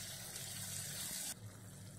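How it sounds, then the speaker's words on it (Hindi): About half a cup of water poured into a pan of chilli gobhi (cauliflower) mixture, a steady close gush and splash that cuts off sharply near the end, with no talking. "और अब हम इसमें डालते हैं थोड़ा सा पानी, 1/2 कप के बराबर पानी डालेंगे हम इसमें।"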